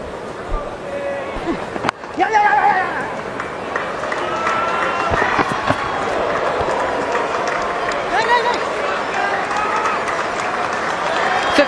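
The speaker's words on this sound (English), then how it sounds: "his team appreciated, applauding from the change room" Applause and crowd noise at a cricket Test match as a batsman is dismissed, steady clapping rising after a sharp knock and continuing at a moderate distance under talking.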